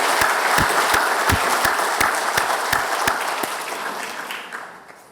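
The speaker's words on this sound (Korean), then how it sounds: "큰 박수로 우리 환영합시다." A church congregation at a Sunday service applauds, sharp individual claps standing out over a dense, steady patter that gradually fades away over about five seconds.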